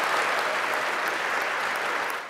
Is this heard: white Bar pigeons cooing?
no